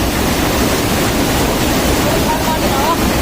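A rushing mountain river on the Kedarnath trail in Uttarakhand roars as a dense, constant, loud wash of water noise, with faint voices buried beneath it.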